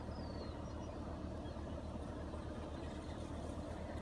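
A small RC car's electric motor runs flat out at full throttle on a nearly dead battery, giving a steady, continuous buzzing drone with no breaks, moderately close and alone.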